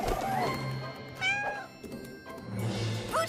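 A cartoon cat lets out several meows and yowls, close and fairly loud, rising and falling in pitch across a few seconds with no talk.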